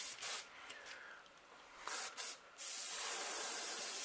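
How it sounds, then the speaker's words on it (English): An airbrush sprays sepia paint onto a crankbait fishing lure in short bursts, then one long continuous hiss, close and clear with no talking. "I'm going to spray so the overspray falls gradually over the sides"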